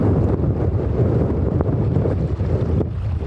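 Strong wind blows on a coast near Ningaloo, buffeting the microphone with a loud, continuous rumbling roar and gusty surges, broken by a brief knock before cutting off abruptly.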